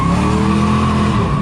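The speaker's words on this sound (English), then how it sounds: "I was in first gear and I was giving it some gas and I just dumped the clutch" A manual car launched in first gear with the clutch dumped under throttle lets out a loud, close engine roar with a sustained tire squeal, steady and intense for the whole moment.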